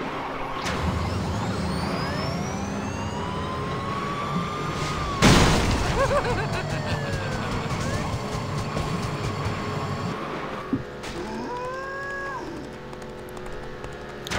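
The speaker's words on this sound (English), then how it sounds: "At least I get to use the sirens now." Video game sirens in Beach Buggy Racing 2 wail, rising and falling over a constant engine drone, with a sharp crash midway and another knock near the end.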